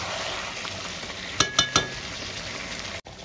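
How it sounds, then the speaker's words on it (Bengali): Chicken and shrimp paste frying on high flame in a pan, a steady loud sizzle with three quick metallic clinks of a utensil midway, then a brief cutoff near the end. "এভাবে হাই ফ্লেমে আমি কষিয়ে নেব।"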